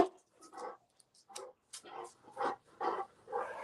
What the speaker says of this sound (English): It is a big bark. It's a big dog. He is an English Mastiff.